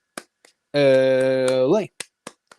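Sharp, isolated hand claps in a UCLA Bruins fan chant, a few quick claps before and after a long, loud sustained vocal shout.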